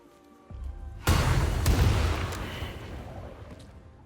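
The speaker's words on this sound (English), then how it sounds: "And then a Booming Blade on it." A Booming Blade strike in Baldur's Gate 3 lands as one heavy, close boom that rumbles and decays over a few seconds after a quieter lead-in.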